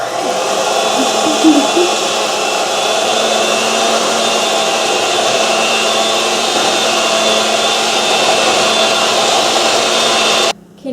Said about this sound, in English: we're going to mix it with a mixer. Okay, so we're going to mix this on the settings 3